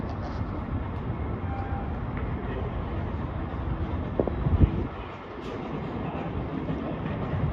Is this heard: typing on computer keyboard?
no